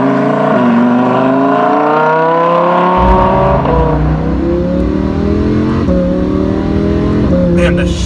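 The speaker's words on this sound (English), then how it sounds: "the shifts, you can hear them, the shifts are unbelievably fast" Lamborghini Huracan sports car accelerating hard, engine note climbing steeply then dropping sharply at each quick dual-clutch upshift, several rapid shifts in a row, loud and close from inside the car, no talk.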